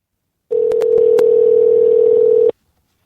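A loud, steady telephone dial tone sounds alone for about two seconds as a call is placed to return a caller, with a few faint clicks on the line.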